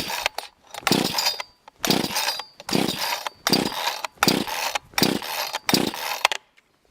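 A cheap budget chainsaw with ignition on and choke out, pulled repeatedly: about seven loud bursts of engine sputter and cranking in a steady rhythm, each cutting off into short pauses, close up with no talking.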